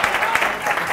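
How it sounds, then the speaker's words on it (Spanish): Brief burst of audience applause at a school quiz show with secondary students, dense clapping heard for about a second. "Te vas a llevar un aplauso para ella también."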